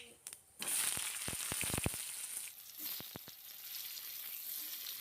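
Potato pieces frying in hot oil with a bay leaf and whole cumin seeds, a steady close sizzle with a few sharp clacks from stirring near the start.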